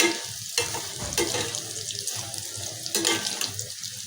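Sausages frying in a pan, giving a steady close sizzle with scattered sharp crackles and pops throughout.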